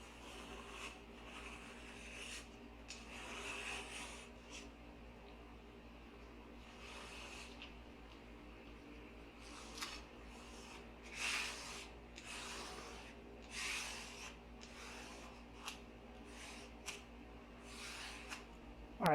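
A plastic stir stick rubbed firmly over tape on machined blaster parts, giving quiet, close scratchy strokes in irregular bursts, some short and some drawn out, against a soft steady background hum.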